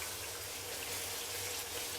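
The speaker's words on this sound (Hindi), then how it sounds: "पानी डालेंगे अच्छी तरह से और भूनते जाएंगे" Water hisses and sizzles steadily as it is poured into frying masala in a cooking pot, a faint, continuous wash of sound with no speech.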